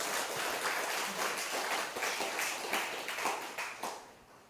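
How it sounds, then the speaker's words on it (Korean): An audience at a Buddhist summer retreat gathering claps in a moderate, somewhat scattered round of applause, fairly distant and softening toward the end. "이러면 박수가 나와야지."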